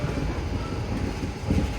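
The Narsapur Express at Secunderabad railway station gives off a steady, loud rumbling roar, with no distinct clicks or horn, over a short stretch.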